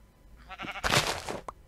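Sheep bleats from a video game: a short rising bleat, then a louder, longer wavering bleat and a brief final call, close and clear, with no talking.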